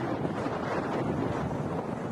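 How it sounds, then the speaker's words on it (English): Strong wind buffets the microphone on a cricket ground, a loud, steady broadband roar with constant gusting turbulence and no other sounds or voices. "Very windy out there."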